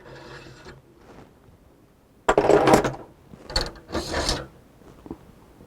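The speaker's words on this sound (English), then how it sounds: "And then I would remove the small extensions with the rotating extender bar." Small extensions being removed from a Rultract pannus retractor setup with a rotating extender bar give a few close, sharp mechanical clicks and ratcheting bursts, with quiet gaps between them.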